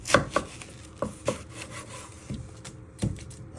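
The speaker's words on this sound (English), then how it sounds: "Then you chop it down the middle" A knife chopping a vegetable down the middle on a cutting board, a few sharp close thunks spaced irregularly with quiet rubbing between them.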